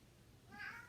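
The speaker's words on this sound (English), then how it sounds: "If you hear some crying, it's my cat just came home." A house cat gives one short, faint cry, a rising meow heard alone at a distance.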